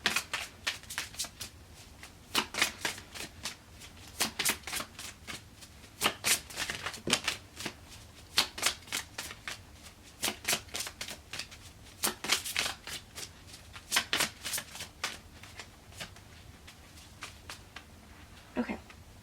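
Tarot card deck being shuffled by hand in repeated riffling bursts with short pauses between, crisp and close, quiet, with no talking.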